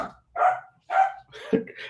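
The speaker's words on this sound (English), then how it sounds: "that's my dog." A pet dog barks in a Honduran coffee-farm setting, three or four quick woofs in under two seconds, close and fairly loud, with no talk over them.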